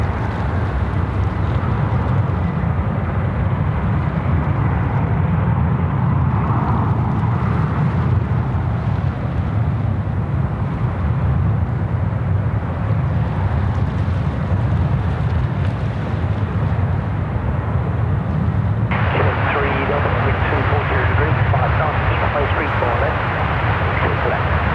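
Qantas flight 127 aircraft at Sydney Airport, a steady, heavy jet engine roar that holds loud throughout and brightens into a harsher whine toward the end, under a voice talking.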